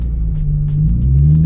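A Nissan 350Z or Mazda Miata engine rumbles low and close, rising slightly in pitch as the manual-transmission car slowly pulls away in first gear.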